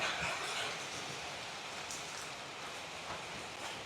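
Steady rain falls on rice paddies, a soft continuous hiss of drops on surfaces with no voices, evenly loud throughout.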